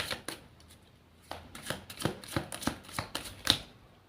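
Tarot cards shuffled by hand during a reading, a series of crisp riffling snaps and slaps in uneven bursts, close and alone with no talk.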